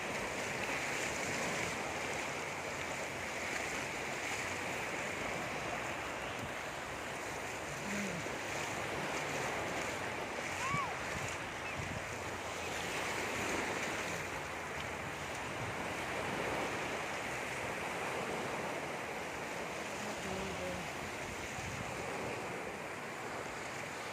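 Large ocean waves breaking continuously on a beach at Binmaley or Lingayen, a steady wash of surf with some wind buffeting the microphone, no talking.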